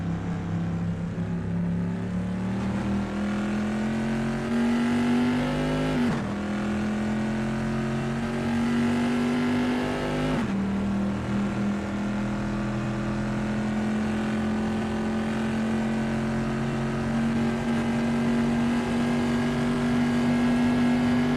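A pre-1973 vintage race car powers through the Rivazza corner at Imola, its engine note loud and close, rising in pitch through the gears with two sharp shifts before settling into a steady, climbing drone.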